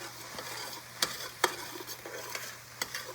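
Breadcrumbs stirred into a pot of cassoulet, a soft steady scraping and shuffling close by, punctuated by several sharp clanks of the spoon against the pot over a faint sizzle.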